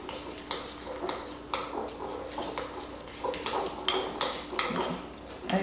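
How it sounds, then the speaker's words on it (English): A spoon clinks and scrapes against a bowl while melting chocolate is stirred for homemade cake pops, giving irregular light taps and scrapes, fairly quiet and close. "Just keep stirring"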